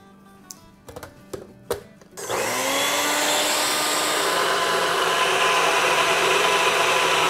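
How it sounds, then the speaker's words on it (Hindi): A kitchen blender whirs steadily as it blends a yogurt mixture for kadhi, starting abruptly after a few clicks and taps and then running loud and continuous to the end. "तो चले इसको अब हम ब्लेंड करते हैं।"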